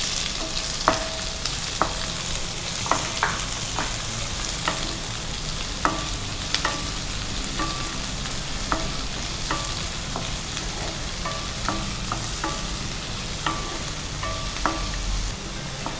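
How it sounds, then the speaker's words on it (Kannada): Sliced onions fry in a pan with a continuous close sizzle, broken by light, irregular clicks of a spatula stirring them, with no voices. "ಇದು ನೀರುಳ್ಳಿ ಸ್ವಲ್ಪ ಫ್ರೈ ಮಾಡಬೇಕು"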